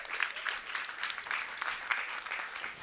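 A summit audience claps in sustained applause, a dense, moderately loud patter of many hands that continues evenly for a few seconds.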